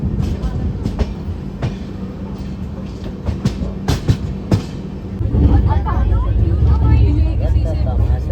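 A passenger express train pulling out of Ghaziabad station rumbles and clatters along, the low roar swelling as it gathers speed, with sharp clicks over the rails early on.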